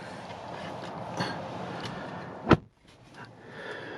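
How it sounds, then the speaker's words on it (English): Driver's door of a 2019 Ford Ranger Lariat pickup shut from outside, a single muffled thud after a few seconds of steady outdoor hiss, followed by a brief quieter stretch. "I'll go ahead and close the door here"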